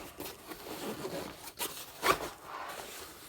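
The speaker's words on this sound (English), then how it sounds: "So you got a zipper that goes up like this." A backpack zipper is opened in a few quick, faint scratchy pulls, close by, with light rustling between them and no speech.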